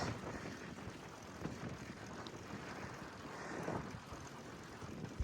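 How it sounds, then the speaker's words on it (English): A faint, steady crosswind buffets a cyclist riding outdoors, producing a low, even rushing with slight gusty swells and no voices. "it's not a straight-on headwind like I thought it was going to be. It's actually a crosswind."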